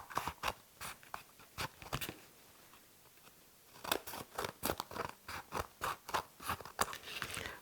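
Scissors cut paper into strips for a mixed media collage bundle, giving a quick rhythmic series of crisp close snips, a short gap, then another steady run of cuts.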